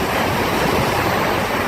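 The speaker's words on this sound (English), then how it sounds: "I love the sound of the waves here" Sea waves on the southern Swedish coast at sunset wash in a continuous, loud broadband roar, close by and mixed with wind buffeting the microphone.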